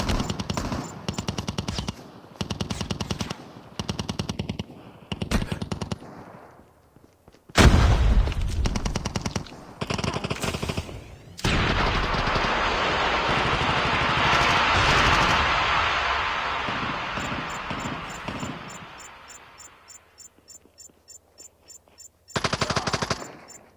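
Repeated bursts of automatic machine-gun fire in a video game battle, loud and close, with short pauses between volleys and a lingering roar of explosions and rumble in the middle.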